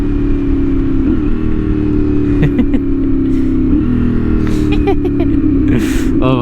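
A CFMOTO 450SS motorcycle with a new exhaust rides along, its engine droning steadily with several quick revs and blips as it downshifts, loud and close, with wind noise and someone talking excitedly over it.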